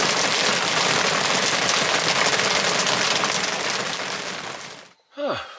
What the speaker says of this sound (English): the rain pelted down violently.